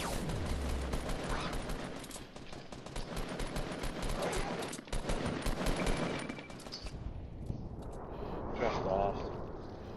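Rapid bursts of gunfire in the video game Fortnite crackle densely and loudly for several seconds before thinning out, with a voice talking over them.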